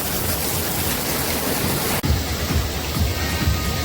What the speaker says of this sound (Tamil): கீழே பார்த்தீங்களா, மழை கண்டினியூவாக பெய்யுது